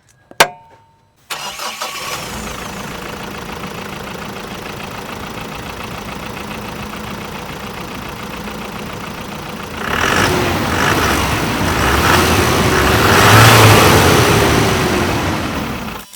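The engine of a Camper Gold ZX 4x4 six-seater vehicle cranks with a sharp click and catches, then settles into a steady idle before revving up louder near the end.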